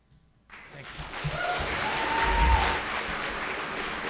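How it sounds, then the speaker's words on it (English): Audience applause at a Norfolk special town meeting, starting abruptly after a moment of quiet and swelling into a steady, sustained clatter of many hands in a large hall; a few faint voices rise beneath it. "if we can hold on the applause"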